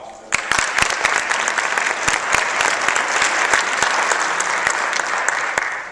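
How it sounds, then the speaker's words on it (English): Audience applause in a university hall, loud, dense clapping from a large crowd that runs steadily for several seconds with a few sharp, distinct claps standing out. "if we could give them a round of applause for that"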